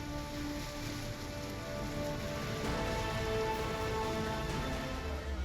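Heavy continuous rain in Karauli district, Rajasthan, a dense steady hiss of drops on surfaces with no pauses, loud and unbroken throughout.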